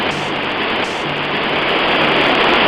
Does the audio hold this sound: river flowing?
yes